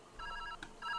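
A phone ringing inside a video game, two short bursts of a bright electronic trill separated by a brief gap, clear and close.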